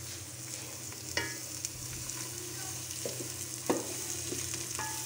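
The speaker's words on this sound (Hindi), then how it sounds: "थोड़ा लाइट सा इसको सोते करना है सिर्फ। ये थोड़ी सी प्याज हो जाए" Onion lightly sautéing in oil for a stuffed bitter gourd masala, a quiet steady sizzle with a few faint stirring scrapes and taps.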